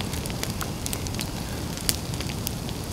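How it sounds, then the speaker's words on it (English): Outdoor campfire for roasting a suckling pig, crackling and popping steadily with scattered sharp snaps over a low rushing burn, close by with no voices. "Good job we got this fire going though."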